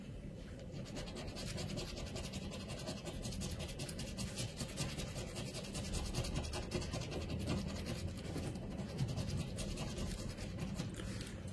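Coin or fingernail scratching the foil off a scratch-off lottery ticket, a close, steady rasping rub that continues without pause, no voices.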